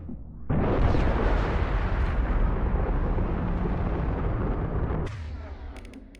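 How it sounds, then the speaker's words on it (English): A nuke-like blast from a weapon in Mass Effect erupts suddenly, then roars as a loud, sustained rumble for several seconds before cutting off, leaving a faint clattering tail. "casually firing off a nuke in a space"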